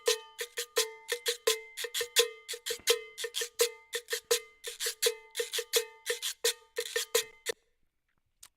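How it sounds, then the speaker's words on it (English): Rapid, syncopated cowbell hits in a Latin percussion pattern programmed in Ableton Live, bright and dry, repeating steadily for about seven seconds before stopping abruptly. "So the cowbell sounds like this."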